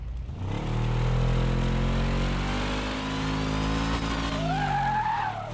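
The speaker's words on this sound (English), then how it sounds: "It sounds to me like there's a hole in the muffler somewhere." Racing-game car engine with a loud, holed muffler drones steadily and close, its pitch climbing and dipping as it revs, ending with a sharp rising tire squeal.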